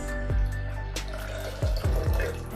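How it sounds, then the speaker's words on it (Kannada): Water is poured into a cooking pot to make poha pongal, with a running, splashing stream broken by a few short bursts and gurgles, close by and alone. "ಈಗ ಇದರಲ್ಲಿ ಒಂದು ಸ್ವಲ್ಪ ನೀರನ್ನು ಹಾಕೊಳ್ಳುವ"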